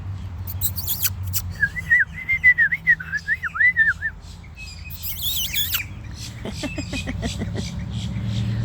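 Backyard birds, bright red and black, calling outdoors: warbling whistled phrases, then sharp chirps and a rapid run of short notes, fairly close with faint traffic behind.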